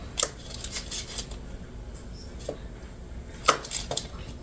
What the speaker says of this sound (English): I'm going to cut what's left of this thing of butter